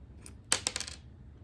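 A small AR-15 extractor pin is pulled out and drops, landing with a bright metallic clink followed by a few quick bouncing ticks, close and alone.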